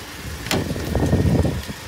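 A car engine idles close by, a steady low rumble with a short thump partway through and no talking.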